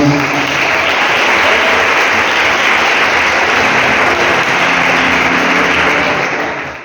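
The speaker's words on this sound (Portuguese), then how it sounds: "Palmas para Jesus, irmãos." A church congregation at a worship service claps together in a loud, dense, unbroken wash of applause that fades slightly at the very end.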